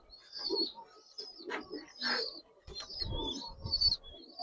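Giribaz pigeons in a loft coo softly in low, rolling bursts, mixed with higher chirps and rustling nearby, rising and falling irregularly.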